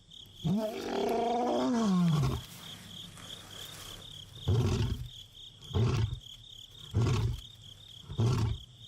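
A tiger gives a long, loud roar that rises and falls, then a series of four shorter, heavy grunting roars at steady intervals, with insects chirring steadily in the background.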